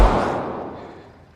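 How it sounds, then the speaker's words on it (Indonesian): A single gunshot from the thriller film I See You, a thudding blast at the start followed by a long fading tail with no speech. "Alex yang mendengar suara tembakan menduga Greg telah membunuh Mindy"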